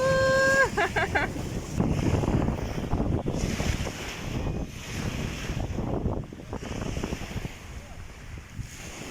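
Wind and surf by the sea in Morocco, a steady broadband roar of waves and gusting wind buffeting the microphone, with a few brief tonal beeps at the start and faint voices now and then.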